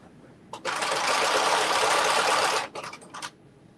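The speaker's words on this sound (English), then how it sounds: "Yep, it's sewing it. Yeah, it's doing it now." A sewing machine runs a continuous two-second burst of stitching on a Carmen top, loud and close, then stutters through a few short bursts before stopping.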